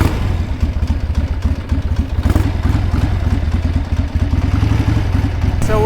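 An old vintage Harley-Davidson motorcycle rides down the road at around 45 mph, its engine a loud, close, steady rumble with a rapid lumpy beat and wind noise throughout, no talking.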